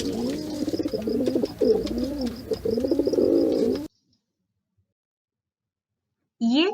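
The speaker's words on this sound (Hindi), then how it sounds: "ये है कबूतर। In English it is known as pigeon. गुटरगू करके ये बोलता है।" A pigeon gives soft, throaty coos in repeated rolling phrases, close and clear, then falls silent. A short voice cuts in at the end.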